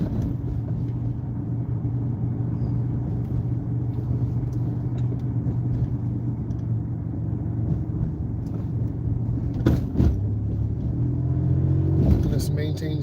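A car driving at about 25 mph on a downtown road, a steady low engine and road rumble throughout with a person talking over it.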